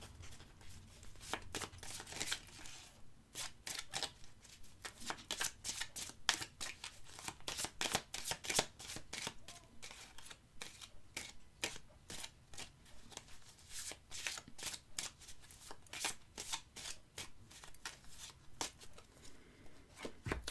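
Oracle cards are shuffled in a long run of rapid, crisp riffling and flicking. The sound is close and fairly quiet, with no talk over it.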